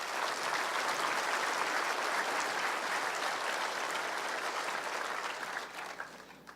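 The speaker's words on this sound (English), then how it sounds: "So let's give them a round of applause." Steady audience applause fills a large hall at a provincial State of the Province address, dense clapping holding for several seconds before tapering off at the end.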